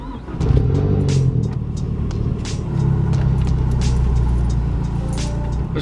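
A Mazdaspeed 3 fitted with a BNR S4 turbo accelerates hard on a street pull, its engine rising in a loud, close rumble, easing briefly around the middle, then climbing again with the transmission and drivetrain audible.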